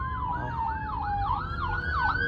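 An ambulance siren in Nigeria wails in repeated rising and falling sweeps, loud and continuous throughout, with traffic rumble underneath.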